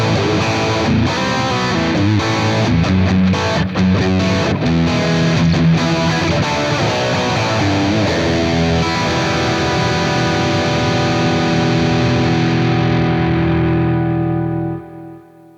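Electric guitar played through a Boss Katana-100 amp with treble and mids rolled back and bass raised, giving warm, thick distorted chords that ring loudly and steadily before fading out at the end.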